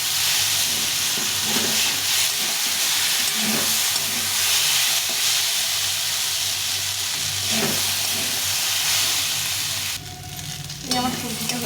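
Mixed vegetables with radish and a pinch of sugar fry in a pan for a vegetarian chorchori, producing a loud, steady hissing sizzle with occasional stirs that drops off abruptly near the end.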